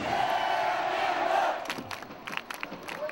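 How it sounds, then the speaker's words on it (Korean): Red Devils football supporters shout a chant together in a loud, sustained massed roar that cuts off after about a second and a half, followed by scattered crowd noise and shouts. "똑같이 구호를 시작하고 똑같이 박자 맞춰 함성을 지른다."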